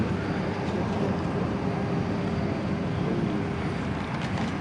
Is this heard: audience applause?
no